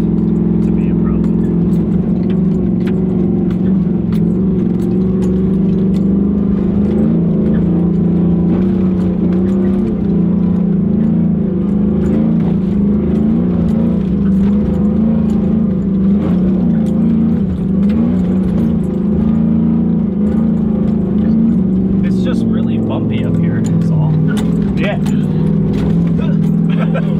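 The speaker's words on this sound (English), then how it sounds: "let's try it. I don't even know if that's sand or dirt or what, but we're gonna try it." An off-road vehicle climbing a soft sandy dirt slope on a mountain track, its engine droning steadily and loudly up close with shifting revs, rattles and clunks, while people talk over it.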